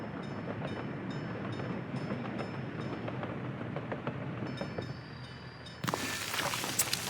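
A train rolling along in the city-building game Workers & Resources, with steady rumbling and repeated clicking wheel beats, moderately faint, then a sudden brighter hiss of added noise near the end.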